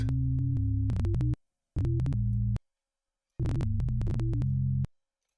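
EEG brain signals rendered as audio come through as buzzy, sustained electronic tones in three separate bursts, each about a second long and broken by abrupt silences, with wavering pitch and sharp clicks at the edges.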